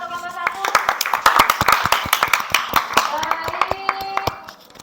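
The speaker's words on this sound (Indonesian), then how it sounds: "tepuk tangan untuk kelompok 1" A small group claps for the first team in a classroom, a quick run of sharp, fairly close hand claps for about four seconds with voices talking and cheering underneath.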